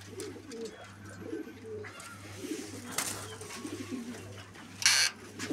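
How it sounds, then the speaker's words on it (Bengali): Fancy pigeons such as Jacobins, Lahores and Sherazis at a sale coo softly in an enclosure, low throaty murmurs repeating beneath a steady hum, with a brief brighter burst near the end. "ওইখানে কিছু সামান কবুতর আছে,"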